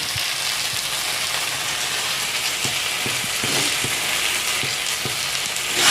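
Fish-head and taro leaf curry in a pan, with a continuous loud sizzle and faint repeated scraping taps of stirring, close and without talk.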